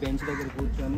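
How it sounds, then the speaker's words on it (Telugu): Crows caw in a park in Hyderabad, their harsh calls mixed in with a person talking nearby throughout the brief moment. "కాకులు కానివ్వండి కాకుల శబ్దం ఆల్రెడీ విన్నారు కానీ ఎక్కువ కాకులు అరిచే విన్నారు ఎప్పుడైనా"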